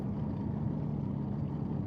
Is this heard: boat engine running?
yes